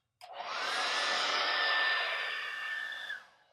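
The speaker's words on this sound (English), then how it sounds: "It's a hairdryer." Hairdryer blowing steadily for about three seconds, a loud close airy rush with a whining motor tone, switching on abruptly and trailing off at the end.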